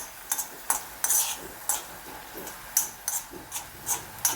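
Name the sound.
frying aval (beaten rice) in a pan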